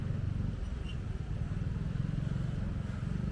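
A vehicle speeds along a narrow road in Bali, its engine a steady, close, rumbling drone that runs unbroken with no clear talk over it.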